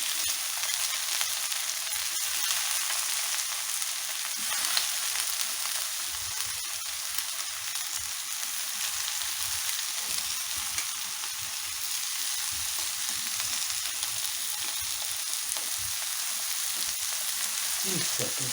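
Cabbage with meat and potatoes sizzles steadily in a skillet, a dense crackling hiss throughout, with occasional soft scrapes and clicks of stirring, fairly close and with no talking.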